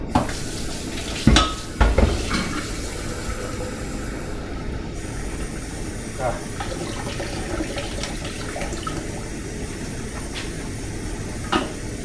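Sushi rice is washed under a running kitchen tap, giving a steady close rush of water throughout, with a few louder splashes and clatters near the start.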